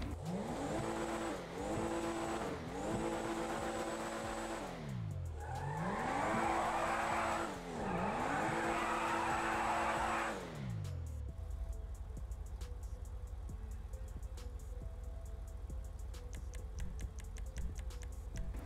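A BMW M4 Competition sports car engine in GTA 5, revving repeatedly through rising and falling gear changes with tire squeal, then settling into a low steady idle.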